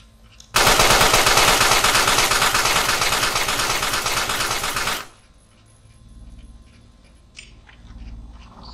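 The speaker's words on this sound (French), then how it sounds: "ma mitrailleuse est en marche" A machine gun fires in the video game Carrion, a loud, dense burst of rapid automatic shots lasting about four seconds, followed by quieter game ambience and faint mechanical tones.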